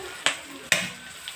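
Chili sautéing in a pan for Pad Kra Pao, a soft frying sizzle punctuated by two sharp stirring clacks and a faint third tap.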